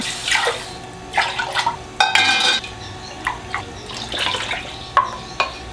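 A cooking pot for pork osso buco rinsed under running tap water in a kitchen sink, with splashing, bursts of flow and a few metallic clanks of the pot.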